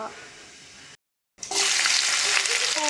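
Cumin seeds hit hot oil for a Telangana-style fish curry: after a quiet stretch and a brief silence, a sudden loud crackling sizzle bursts out and keeps going strongly, close up.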